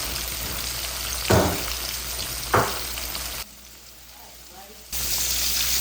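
Fried chicken crackles and sizzles in hot oil with a continuous hiss, broken by two sharp bursts of spatter and a brief quiet drop before the frying noise returns.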